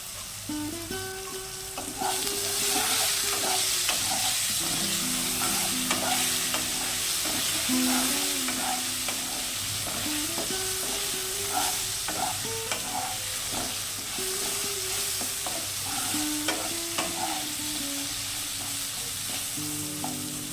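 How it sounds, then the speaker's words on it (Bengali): Potato pieces fry in hot oil until browned for a ridge gourd and poppy seed curry. A steady close sizzle runs throughout with frequent stirring clinks and scrapes, no talking. "আলুগুলোকে লাল করে ভেজে নিয়েছি।"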